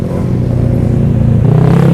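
Honda Beat F1 130 cc motorcycle with a short aftermarket exhaust revving hard up close, a loud steady buzzing drone that climbs in pitch toward the end, with no voices over it.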